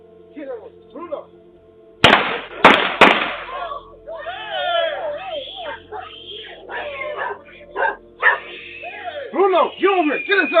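A dog barks repeatedly outside a house, loud and close, after sharp gunshot-like bangs nearby, while a man calls out over the barking.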